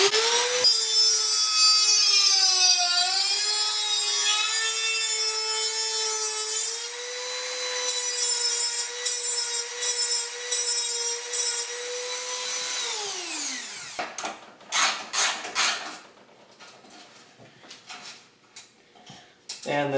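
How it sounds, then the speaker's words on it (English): Dremel rotary tool cutting down bumper studs on a 1976 Mazda RX front bumper: a loud, high, steady whine grinding on metal for about thirteen seconds, pitch sagging briefly under load, then spinning down, followed by scattered scraping and handling noises. "no problem in life or fabrication that a little dremeling can't fix, but we definitely gotta cut the length of these studs down"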